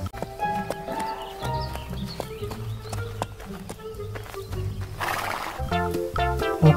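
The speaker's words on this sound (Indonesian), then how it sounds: "Ini kuda." A horse neighs amid a busy mix of music and background sound, with a brief louder whinny near the end.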